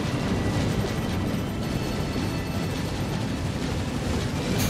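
Explosion in the space combat game Nine Tails Space Combat, a continuous loud low rumbling roar with dense broadband noise that holds steady throughout, with no voices.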